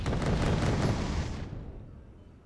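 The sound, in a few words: autocannon fire in video game Wargame: Red Dragon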